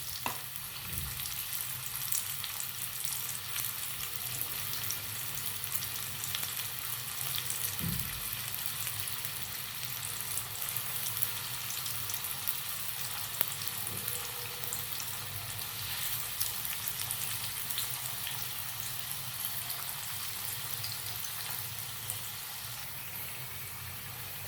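Coated yam slices frying in hot oil over medium flame, a constant soft crackling sizzle that runs steadily throughout, close but quiet, with an occasional faint bump.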